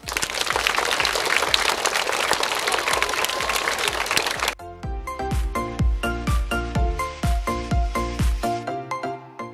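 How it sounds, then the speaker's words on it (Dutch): An audience applauds for a donor of 10,000 school bags at the launch of a First Lady's school bag project; the dense clapping lasts a few seconds, then cuts to rhythmic, percussive music. "Ik wil natuurlijk een applaus voor meneer Sou."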